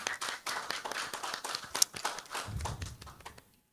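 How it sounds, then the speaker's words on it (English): Round of applause at a pitch competition, scattered clapping from a modest audience that rises and falls before fading out to quiet. "Let's give a round of applause again."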